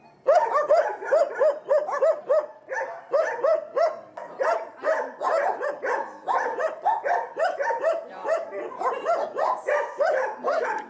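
Many dogs bark nonstop in a crowded animal shelter, a dense close chorus of overlapping barks and yips with occasional whimpers.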